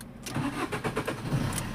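A Chevrolet Sail petrol car with fault codes P1690 and P1676 cranks and its engine catches, a close, rhythmic cranking pulse that runs through the clip and settles toward a running idle, with no voices.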